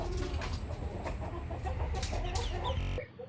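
Junglefowl or bekisar birds in Banjarnegara give repeated clucks and short calls, fairly close and mixed with background outdoor noise, before the sound cuts off abruptly.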